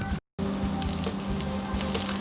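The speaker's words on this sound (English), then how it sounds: "Let's keep frying." Yaki onigiri, Japanese rice balls, fry in a pan until crisp and light brown, giving a steady close sizzle with crackling pops throughout and a brief dropout near the start, with no talking.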